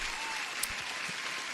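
Applause sound effect played during a live New York session futures day-trading stream: a short, steady burst of dense crowd clapping at even loudness, with no voices over it.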